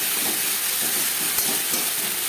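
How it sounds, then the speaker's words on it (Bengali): Whole cumin seeds, half a teaspoon, frying in fresh oil in a kadai previously used to fry fish: a dense, continuous hiss and sizzle, even and close, with no pauses. "মাছ ভেজে নেওয়া কড়াইতে আবারও তেল দিয়েছি। দিয়ে দিলাম 1/2 চামচ গোটা জিরে।"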